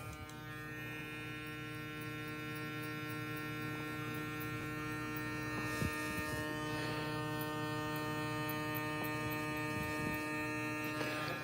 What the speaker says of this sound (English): I'm kind of listening to the clipper.